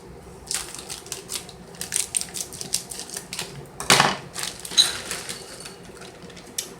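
Semi-sweet chocolate chips pour from a bag into a bowl, a run of light clattering ticks and rattles with a denser burst near the middle, close and fairly quiet, with no voices.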